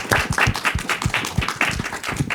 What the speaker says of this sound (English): join me in applauding and thanking Lorna and Mia